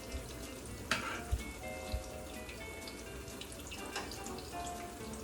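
Zucchini flowers deep frying in a shallow amount of oil give a faint, steady crackle and sizzle with a few sharp pops and spits, and no talking.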